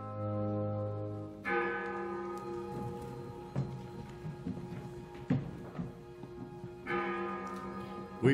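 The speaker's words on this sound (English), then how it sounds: "as the bell in the steeple rang that July 4th" Church steeple bell ringing on the Fourth of July, deep resonant strikes that ring out and fade, with a second strike near the end, heard at moderate distance over faint background.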